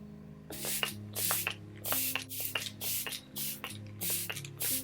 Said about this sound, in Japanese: 同じ感じでスプレーをかけていきます